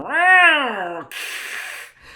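A person imitates an angry cat, first with a long rising-and-falling meow-like yowl and then a harsh, airy hiss, loud and close with nothing else heard.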